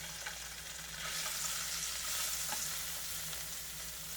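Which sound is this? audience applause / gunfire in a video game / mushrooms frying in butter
mushrooms frying in butter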